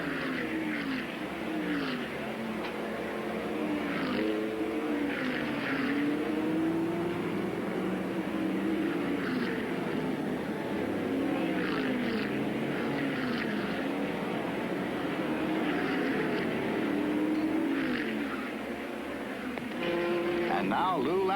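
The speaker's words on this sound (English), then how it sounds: "Number 44, beginning to lap other Category 1 cars." Trans Am race cars lap Laguna Seca in 1979, a continuous engine drone rising and falling in pitch as cars pass, with a commentator's voice running over it.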